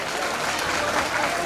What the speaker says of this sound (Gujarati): એકવાર જોરદાર તાળી થઈ જાય શૈલેષભાઈ માટે ભાઈ